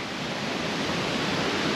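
A forest waterfall roars close by as a dense, constant broadband rush of falling water with no other sounds.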